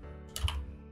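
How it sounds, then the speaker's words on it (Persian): Quick burst of computer keyboard typing, a few close, crisp keystrokes clustered together as a web domain is entered, with a steady low hum underneath. "این بالا دامنتون رو تایپ میکنید"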